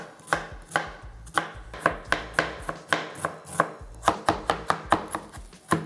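An onion is chopped on a cutting board for chicken pelau, with a fast, steady run of close, crisp knife strikes, about two to three per second, loud and without any voices.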